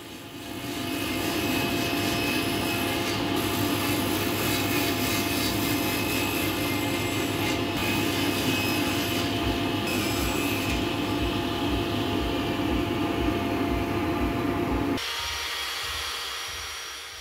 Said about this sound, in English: I headed over to the table saw to cut the legs to their final height